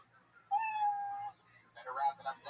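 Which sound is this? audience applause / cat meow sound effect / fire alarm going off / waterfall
cat meow sound effect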